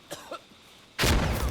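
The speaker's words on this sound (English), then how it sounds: "Try not to cough as much." A sudden loud cough bursts close to the microphone after a second of near quiet, during a live commentary broadcast of an esports grand final.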